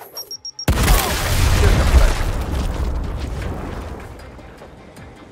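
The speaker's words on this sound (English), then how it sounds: "Throwing a grenade!" A grenade blast in the video game Gears Tactics: a sharp, loud boom after brief quiet, followed by a long rumbling roar that slowly fades over several seconds.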